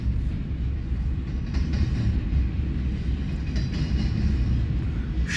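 A double-stack freight train of well cars rolls past at Fremont, Nebraska, a loud, steady rumble of wheels and cars filling the whole stretch with faint rail clatter on top.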